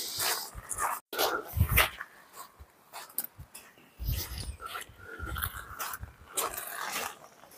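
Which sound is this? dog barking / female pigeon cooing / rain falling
dog barking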